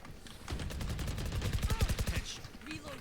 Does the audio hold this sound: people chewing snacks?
no